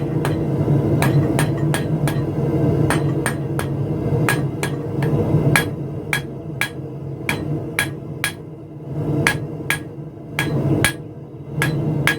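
Hammer forging a tapered stem from a piece of gas pipe: sharp, ringing metal blows strike in an irregular steady rhythm, about two a second, loud and close over a low background hum.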